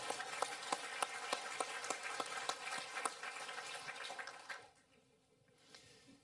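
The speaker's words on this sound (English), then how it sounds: "Round of applause for our friends from Louisiana." Audience applause at an observatory exploration center's grand opening, distinct claps over a steady wash that fades after about four and a half seconds, leaving quieter room sound.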